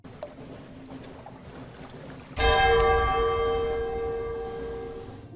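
A bell chime from the Sunless Sea video game sounds as one sudden, resonant strike over a quiet ambient drone. It rings with a bright metallic ring of several overlapping tones and then slowly decays.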